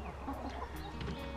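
Hens and a rooster clucking steadily close by in a backyard permaculture coop, several overlapping calls forming a busy, continuous flock chatter with no talk.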